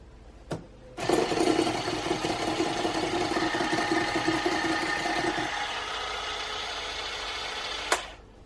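An electric mixer beats gluten-, lactose- and yeast-free vanilla cookie batter in a bowl, starting with a click and whirring steadily for several seconds, its tone dropping slightly partway, then switching off with a clunk; no talking.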